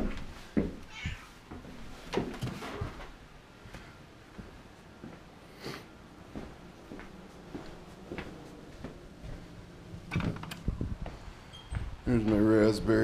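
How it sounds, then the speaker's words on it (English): A pet cat meows a few times in a garden greenhouse with berry bushes, short cries scattered among light rustling and clunks, ending with a louder mechanical rattle. "My cat Tux."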